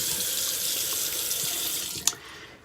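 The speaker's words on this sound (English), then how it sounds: "Then I'll rinse my face one more time." A tap runs steadily into a bathroom sink while a face is rinsed, a loud continuous splashing rush that cuts off abruptly near the end.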